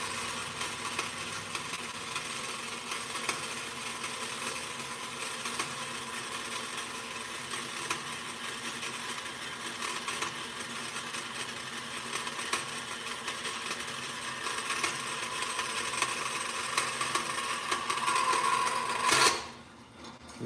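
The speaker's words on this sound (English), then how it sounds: "So, got the old bandsaw fired up and jigs made by Chunky." Old bandsaw cutting metal links held in a jig, a steady high-pitched grinding whine running continuously at moderate volume, swelling slightly near the end before the cut finishes.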